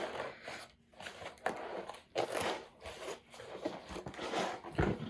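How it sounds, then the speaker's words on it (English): Rustling, scratchy zipper sounds in short bursts, close up, with crinkly handling noises between pulls and no talking. "So it comes with a zipper"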